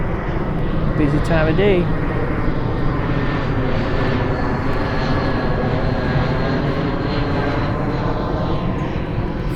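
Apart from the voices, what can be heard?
airplanes flying over during a rainstorm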